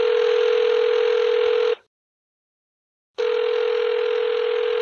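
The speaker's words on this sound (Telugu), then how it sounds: "రైట్, కాల్ చేసేనండి, డైరెక్ట్గా మాట్లాడేద్దాం ఒక్కసారి" Outgoing telephone ringback tone: two long steady electronic rings separated by a short silence, clear and close, with no voices.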